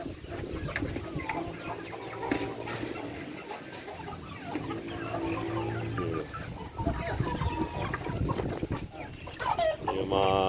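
Free range chickens and roosters clucking together on a muddy farm, a busy overlapping chorus of clucks and calls throughout, with a voice talking underneath.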